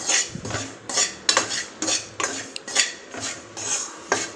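Wheat flour halwa being stirred in a pan with ghee, a spoon scraping and clinking against the metal in a steady rhythm of about eight close, crisp strokes, with no voices.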